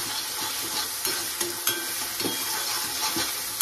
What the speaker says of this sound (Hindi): ढवळून घेऊया मस्त एकदम लाल होईपर्यंत